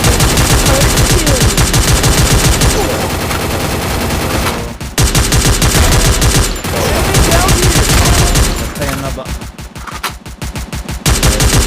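Rapid bursts of gunfire from the mobile battle-royale game Free Fire, loud and continuous with machine-gun strings and brief pauses, dense volleys throughout and a choppier stretch of separate shots near the end.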